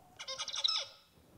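A recorded tutor bird song plays during a lecture on song learning, a single quick burst of bright chirping notes lasting under a second, clear and close.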